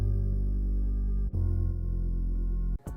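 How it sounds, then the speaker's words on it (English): A bit-crushed synth tone drones with a gritty, buzzing lo-fi texture in a lo-fi anime beat cover, holding steady with a brief dip midway and a short glitchy cutoff at the end. "I used the bit crusher to kind of give it that weird sound so you hear it. Kind of that buzzing sound."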